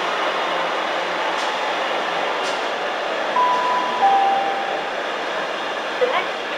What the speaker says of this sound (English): It's a windy freight train, no surprise there